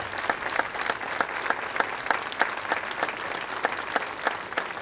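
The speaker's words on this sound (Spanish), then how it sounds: "Un aplauso para Isan." Audience applause for folk singer Isan Ortega at the San Rafael festival's soloists' gathering, a steady, dense clapping of many hands with crisp individual claps standing out, sustained throughout at moderate loudness.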